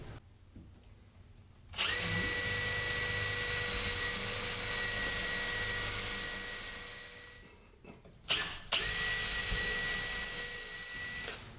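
Power tool, likely a drill driver, fastening a wooden support board to a sheetrock wall: a loud, steady whirring run of about six seconds that winds down, then a short second burst after a brief pause, close up.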